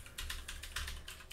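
Noisy computer keyboard being typed on, a quick run of crisp clacking keystrokes in small bursts, quiet and close with no talking.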